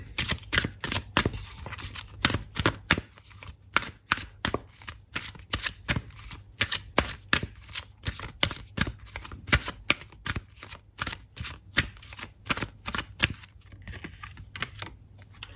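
A tarot oracle card deck is shuffled by hand in a long run of rapid, crisp riffling snaps and taps. The bursts repeat steadily and close up for about fifteen seconds without speech.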